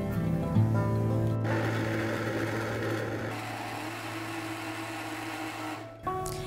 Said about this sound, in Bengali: এবার ব্লেন্ড করে নিচ্ছি।